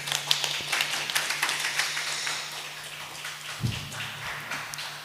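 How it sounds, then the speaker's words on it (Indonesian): Scattered applause from an audience at an economics and education seminar, a light, fairly distant patter of claps under a steady electrical hum, fading gradually. "mohon aplaus yang meriah untuk beliau"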